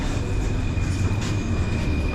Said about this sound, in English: The subway in Paris, you know, like it is like too deep on the ground.